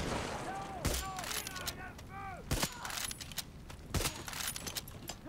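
Grenade blasts and gunfire in the shooter game Far Cry 6: sharp, loud bursts at about one, two and a half and four seconds, with crackling shots and chirpy game effects between them.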